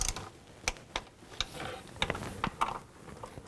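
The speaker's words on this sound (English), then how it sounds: "then we can torque these nuts to 89 inch-pounds" Sharp metallic clicks of a torque wrench tightening the throttle body nuts on a 2000-06 Chevy Tahoe come in an irregular series of close, crisp ticks over quiet background noise.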